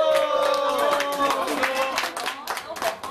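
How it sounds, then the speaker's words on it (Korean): Clapping from a group of people at a new-employee welcome party, short rhythmic hand claps mixed with voices and a melodic tone running underneath, fairly close and steady for about three seconds. "박수 박수 박수."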